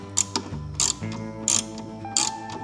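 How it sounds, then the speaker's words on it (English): An Allen key tightens the fairing support bracket bolt on a 2025 Harley-Davidson Road Glide, giving four short metallic clicking bursts at roughly even intervals over a faint, steady low hum, close up and without talk. "Now we got to tighten the bolt that goes, it ties the fairing to the lower fairing to the fairing support bracket, and that's a number 6 Allen."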